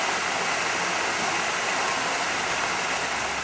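Crystal Creek rushes hard downstream, a loud unbroken broadband roar of fast-flowing water with no pauses, heard close and alone.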